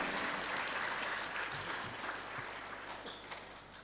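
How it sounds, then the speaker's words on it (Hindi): Thin, scattered applause from a seated audience at a Ram Katha discourse, fairly faint and steady, slowly tapering off. "तालियां यद्यपि कमजोर है"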